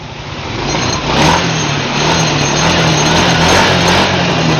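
A freshly started engine runs steadily after new oil has been added, with the oil expected to burn off as smoke. It holds a continuous, close, even drone with a low hum and no pauses.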